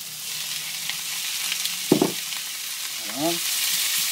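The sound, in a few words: chicken, garlic and onions frying in a pan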